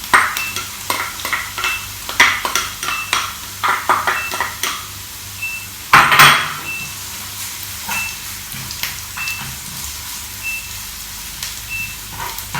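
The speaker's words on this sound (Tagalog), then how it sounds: "Pag medyo nag-golden brown na yung bawang, so ibig sabihin luto na siya." Garlic fries with onion in a pan, hissing steadily while a utensil scrapes and stirs in repeated strokes. A louder burst of sizzling comes midway, and a faint intermittent beeping sounds in the background. No one speaks.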